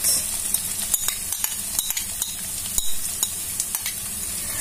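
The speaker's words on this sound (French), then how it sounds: "Je vais faire revenir. Maintenant, je vais rajouter mes carottes." Carrots sauté in a pan with a crisp, close sizzle and a rapid series of clicking utensil strokes against the pan, no voices.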